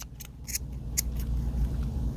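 Scissors cutting gauze to finish a splint on a limb: a few quick, sharp snips close by in the first second, then a low steady background hum.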